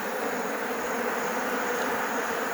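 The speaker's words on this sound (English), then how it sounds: "Yeah, look at them bees." Dense, continuous buzzing of many bees swarming around an opened beehive during an inspection in Nigeria, steady and close with no pauses.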